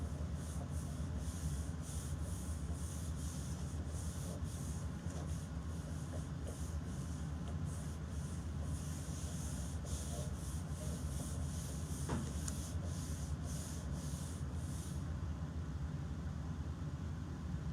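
A sanding sponge rubbed over the edges of a St Patrick's Day paper craft, giving a steady, close, scratchy scrubbing that pulses in repeated strokes with no talking.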